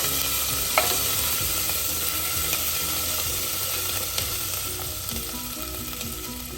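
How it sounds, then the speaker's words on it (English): Ginger sizzling in hot oil in a pan for a potato curry, a steady loud frying hiss with scattered crackles and occasional stirring clicks, with no voices. "So I add the ginger at this stage."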